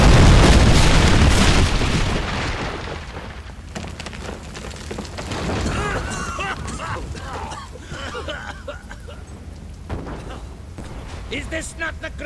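A big explosion booms in Fable III, loud at first, then fades into crackling, rumbling debris and scattered impacts, with voices talking over the aftermath.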